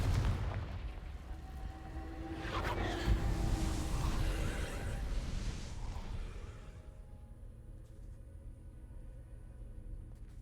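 The Confringo fire spell explodes in Hogwarts Legacy as a rumbling blast that swells and booms for several seconds, then fades into a quieter hiss.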